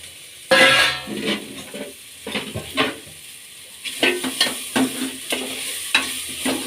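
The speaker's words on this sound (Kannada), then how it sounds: "ಈಗ ಕ್ಯಾಪ್ಸಿಕಮ್ ಸೇರಿಸ್ಕೊಳ್ಳೋಣ. ಇದರಲ್ಲೇ 1 ನಿಮಿಷ ಫ್ರೈ ಮಾಡ್ಕೊಳ್ಳೋಣ." Capsicum is being stirred into mushrooms that are already frying in a pan for mushroom soup. A low sizzle runs under repeated, uneven scrapes and clinks of a spatula against the pan.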